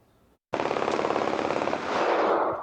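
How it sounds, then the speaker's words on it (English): Gunfire near a high school on Kirby Street Northwest, a sudden rapid burst of shots rolling continuously for about two seconds, loud and sharp after a moment of silence. "Video provided to us shows the moment gunfire rang out."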